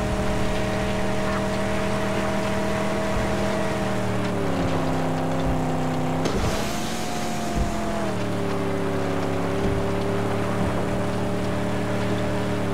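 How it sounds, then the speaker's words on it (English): A car engine in the Mad Max video game drones steadily at high revs, its pitch dipping and rising with gear shifts and surging briefly mid-run, loud and continuous with no talk. "Man, I love the sound of this car."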